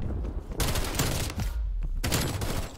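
Rapid gunfire bursts from Call of Duty Black Ops Cold War rattle loudly and close, in several sustained volleys separated by brief lulls, with no talking.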